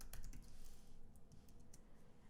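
Rapid clicking of computer keyboard keys, a quick burst of typing with short irregular taps, close and fairly quiet.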